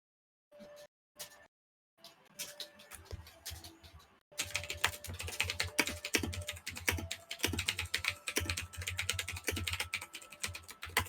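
Computer keyboard typing, a few isolated keystrokes at first, then a steady, dense run of rapid clicking keys, close and fairly quiet, with no voices.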